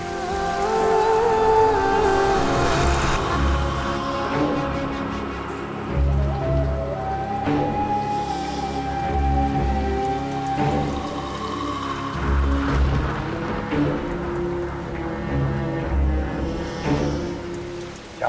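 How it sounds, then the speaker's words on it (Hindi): Heavy rain pours down in a TV drama scene, a constant rushing patter that runs steadily under music for the full length. "ये तो तेज बारिश शुरू हो गई, चल बारिश का मजा लेते हैं।"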